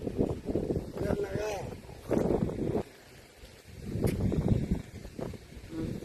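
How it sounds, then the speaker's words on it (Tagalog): Gusty wind buffets the microphone with rumbling bursts while a person talks outdoors throughout, at the seaside in South Korea. "Mahangin siya, mahangin."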